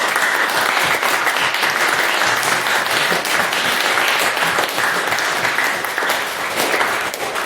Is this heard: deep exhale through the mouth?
no